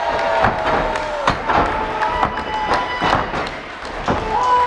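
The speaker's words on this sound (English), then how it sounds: "an avalanche! All the way, slam!" At a live independent wrestling show, a wrestler crashes to the mat from an avalanche superplex, heavy thuds landing amid a cheering crowd and excited voices.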